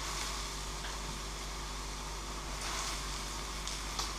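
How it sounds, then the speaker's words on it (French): Porcini mushrooms frying in heated olive oil in a saucepan over fairly high heat, a steady close sizzle with broadband crackle throughout and no talking. "Je vais légèrement les faire colorer."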